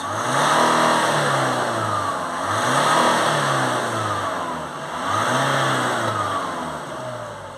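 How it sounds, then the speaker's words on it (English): A diesel vehicle with a diesel particulate filter revs under full acceleration, its engine loud and close, rising and falling in three surging pulls. "give it a couple of full accelerations."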